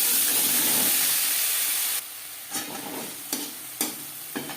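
Ginger and green chili paste hits hot oil already tempered with panch phoron, a loud dense sizzle that drops to a quieter fry broken by a few sharp scraping stirs.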